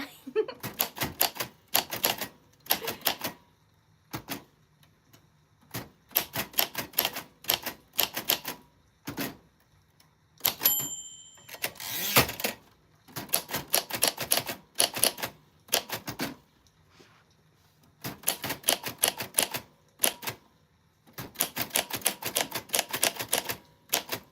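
Keys strike on a vintage typewriter in quick bursts of sharp clacks, separated by short pauses and occasional carriage sounds, close and clear in a quiet room.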